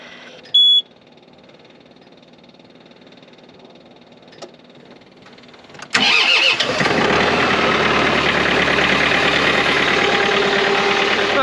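A diesel engine cranks and fires after its glow plugs are cycled: a short warning beep and quiet clicks come first, then the engine catches abruptly and settles into a loud, steady, rough idle nearby.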